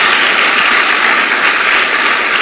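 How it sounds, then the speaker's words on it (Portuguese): Loud, dense applause rises from a church congregation during a worship service, an unbroken wash of many hands clapping at close range. "Dá uma salva de palmas ao Senhor."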